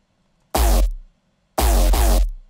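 A synth patch with plugins plays a MIDI part in a hands-up dance track: a loud, bright stab, then a longer two-part phrase a second later, alone with no talking.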